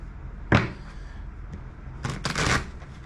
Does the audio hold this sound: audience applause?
no